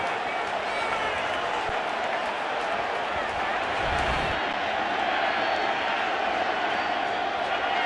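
Dense stadium crowd roaring and cheering at a 2015 World Series baseball game between the Royals and Mets, a steady broad wash of noise that swells briefly around the middle and holds loud throughout.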